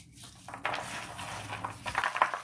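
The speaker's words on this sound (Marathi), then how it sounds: "हे जे लसूण आपल्याला सोलायचं आहे तर अशा पद्धतीने याला घासून घ्यायचं आहे" Garlic cloves rubbed briskly between oiled hands to loosen their skins, a soft continuous papery rustling and scraping with small clicks of cloves knocking together, close and alone.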